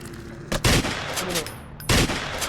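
Gunfire in the mobile shooter game Wall of Insanity, two sharp, loud bursts of shots about a second and a half apart over a continuous background of game ambience, with no talking.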